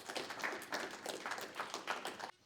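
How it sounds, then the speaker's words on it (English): A sports team at practice claps together in a quick, rhythmic burst of overlapping hand claps, fairly faint, ending abruptly. "Clap them up."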